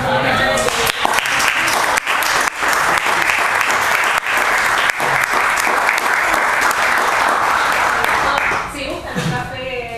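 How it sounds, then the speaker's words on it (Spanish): An audience at a book presentation in Olavarría claps in a dense, sustained burst of applause that holds steady for several seconds before thinning out near the end, with a voice faintly present. "Le agradecemos por el aplauso"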